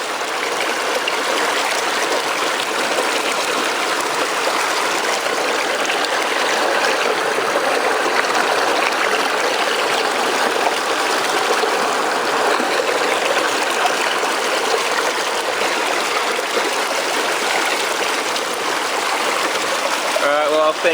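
Loud, constant rushing of Reedy Creek in flood in Victoria roars without a break for about twenty seconds, close and steady.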